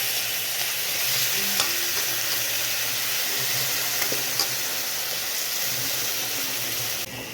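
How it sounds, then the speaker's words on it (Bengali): Soaked, rinsed dal frying in mustard oil in a pan, a steady close sizzle and hiss with occasional stirring scrapes, continuous throughout with no one speaking. "একটু সর্ষের তেল দিয়ে ডালটা আমি ভেজে নেব"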